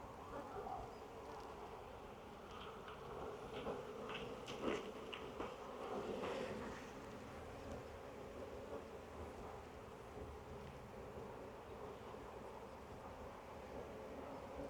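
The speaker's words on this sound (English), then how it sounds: "Lots of young emerging bees." Honeybees hum steadily inside an open hive on a sunny day as a frame of young emerging bees is lifted out, a dense, continuous buzz close by with no talking over it.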